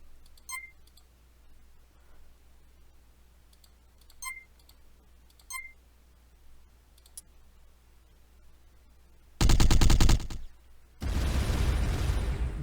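Gunfire bursts from an attack in the video game Into the Void, with a loud roughly one-second burst near the end followed by a second sustained blast, after a stretch of quiet faint clicks.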